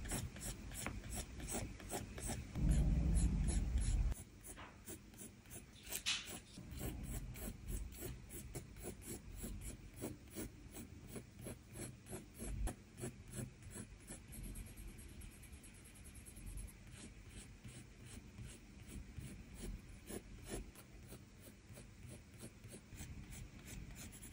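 Pencil drawing and shading on paper for a hair sketch, heard as rapid, close, scratchy rubbing strokes repeating steadily, with a louder, heavier scrape near the start.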